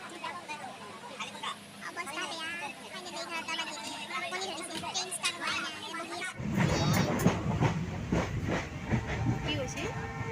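A train running at night, heard from inside a passenger carriage, a steady low rumble and rattle beneath people talking nearby, growing louder and rougher partway through.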